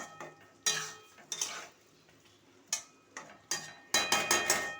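Bottle gourd curry sprinkled with coriander leaves and stirred in a pan, heard as several sharp metal spoon scrapes and clinks against the pan, separated by quiet gaps, close and moderately loud.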